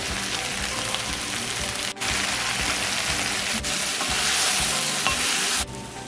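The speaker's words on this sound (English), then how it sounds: "I just want this meat to cook it for a couple of minutes on the bottom before I start to stir it up" Chunks of goat meat for Jamaican curry goat sear in a hot pot, giving a steady, loud, close sizzle that runs unbroken with a couple of brief dips and no voices.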